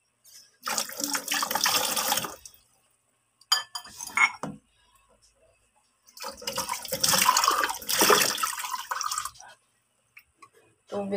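Water poured into a cooking pot of pork estofado, with splashing and clinking in two bursts separated by a brief clatter and pauses, close and fairly loud.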